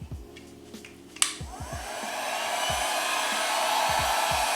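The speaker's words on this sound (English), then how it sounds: "Have a heat gun." A heat gun switches on with a sharp click and settles into a steady, loud rush of hot air that builds over the seconds, with faint low knocks from handling during wiring work on heat shrink.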